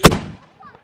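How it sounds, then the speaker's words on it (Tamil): A single sharp firecracker burst at a village Diwali celebration, loud and close, cracking at the start and then trailing off into a fading rumble, with faint crackles afterward. "எல்லா பக்கம் பட்டாசு கிளப்புறேன் இப்போ."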